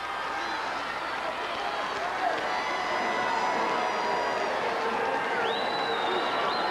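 Crowd at a 1985 state championship high school football game in the UNI-Dome, a steady roar of cheering and shouting spread across a large indoor stadium, continuous and moderately loud, with scattered whistles and an announcer talking over it.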